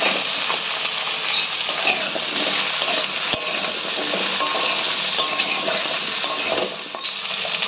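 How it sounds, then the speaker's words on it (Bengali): Cut pumpkin, eggplant and potato fry in hot oil, giving a continuous bright sizzle with occasional soft stirring clatters, close and steady throughout. "দিয়ে দিচ্ছি কুমড়ো, বেগুন, আলু। সবজিটা আমরা কিছুক্ষণ ভেজে নেব"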